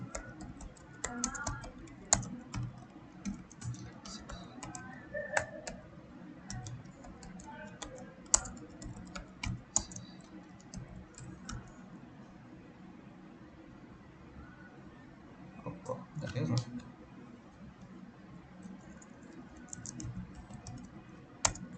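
Keys clatter on a computer keyboard as network switch port settings are entered, steady clicks in bursts with a faint voice murmuring underneath.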